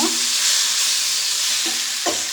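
Raw mango pickle mixture frying in oil for a mango thokku, a steady close sizzle running throughout with two brief scraping stirs near the end.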